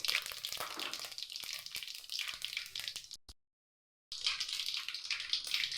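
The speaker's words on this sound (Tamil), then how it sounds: "மிளகு போட்டுருவோம் சீரகம் போட்டுருவோம் தெரிக்குது ஓரமாக நின்றுக்கோங்க சோம்பு போட்டுக்குவோம்" Black pepper, cumin and fennel seeds spluttering in hot oil for a snake gourd gravy, a dense crackling sizzle with scattered pops that cuts out abruptly for almost a second before resuming just as loud.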